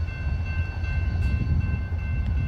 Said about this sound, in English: All right, friends, check out this train.